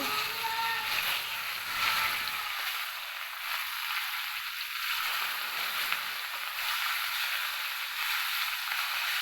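Taki fish frying in soybean oil in a frying pan, a steady broad hiss of sizzling oil that holds at an even level throughout, close by, with no talking.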